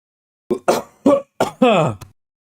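Several quick, sharp coughs in a row from one person close up, followed by a short throat-clearing rasp, then silence.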